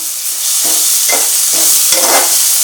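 Food sizzling hard in hot oil over a high flame, a steady bright hiss with a few louder bursts as pieces are stirred, close and continuous with no talking.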